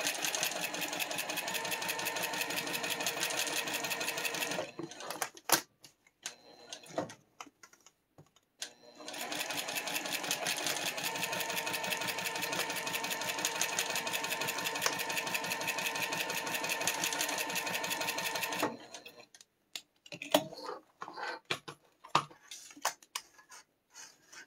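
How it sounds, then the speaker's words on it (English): A hand-cranked sewing machine stitches fabric in two long, steady runs of rapid rhythmic ticking, with scattered clicks and handling noises in the pauses. "always pivot with your needle in your fabric, and then you move your presser foot up, and then you sew."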